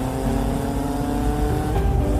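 A cartoon motorbike engine revs steadily and loudly as the bike speeds off, a dense continuous motor drone with no voices over it.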